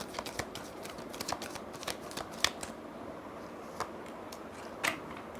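Tarot cards shuffled and drawn during a reading, quiet close-up riffling and crisp card snaps coming in short irregular bursts, soft and faint overall.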